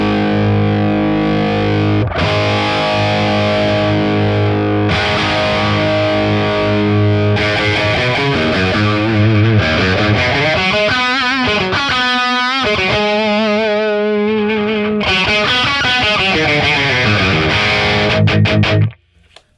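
Electric guitar through a JHS Haunting Mids pedal with harsh, boosted high mids, loud distorted chords and sustained notes with sweeping, warbling tonal shifts in the middle, ringing alone before cutting off abruptly at the end.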